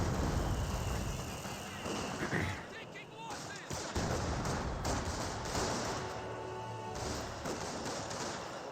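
In Company of Heroes 2, a delayed-fuse mortar barrage lands as a dense rolling series of blasts and thuds, mixed with game effects and some talk.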